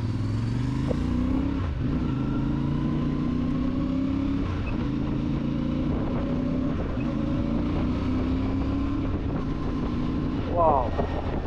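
A CFMOTO 450MT motorcycle engine drones steadily while riding, its pitch rising and falling with gear changes, under heavy wind rush on the microphone.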